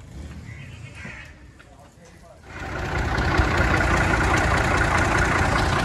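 An old 1982 Massey Ferguson 240 tractor engine comes in partway through and runs loud and close, a steady rumbling idle, with people talking over it.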